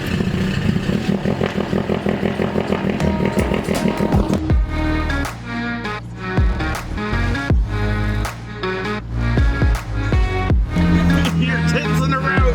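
A street-tuned turbocharged car engine cold-starts with a loud, uneven crank and catch, then settles into a rough, lumpy high idle with sharp revs and pops, close and loud with no talk over it.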